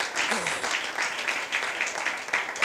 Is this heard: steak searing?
no